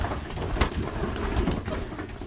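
Racing pigeons coo softly and repeatedly at close range just after returning from a training toss, against a broadband background hiss, with no talking.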